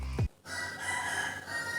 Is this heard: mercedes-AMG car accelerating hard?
no